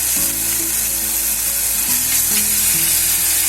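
Spice paste hits browned onions in a pan while cooking white peas usal, giving a steady, loud sizzle and frying hiss that holds evenly throughout with no talking.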